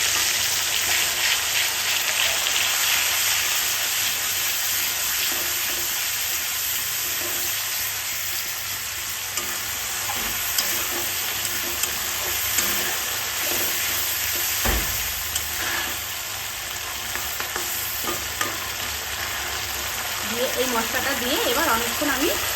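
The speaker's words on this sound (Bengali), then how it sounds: "মশলাগুলো দিয়ে আমি খুব ভালোভাবে কষিয়ে নেব" Spices with coriander leaves, green chili and ginger sizzle steadily in a hot pan, a continuous frying hiss with occasional scraping stirs, loud and close throughout.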